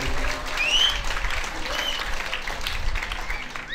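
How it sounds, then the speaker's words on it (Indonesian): Audience applause fills a hall during a Quran memorization ceremony, a dense and steady clatter of many hands that holds at an even, fairly loud level throughout with no gaps. "Beri tepuk tangan"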